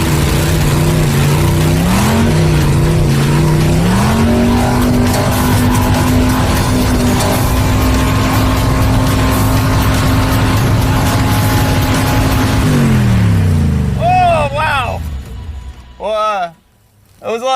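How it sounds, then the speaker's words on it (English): A car engine roaring loudly with the throttle stuck wide open while driving uphill, a sustained high-revving drone that shifts pitch a couple of times, then cuts off near the end as voices cheer and shout. "It went uphill and then the throttle stuck wide open."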